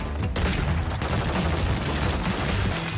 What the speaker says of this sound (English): I got a kill with the shotgun.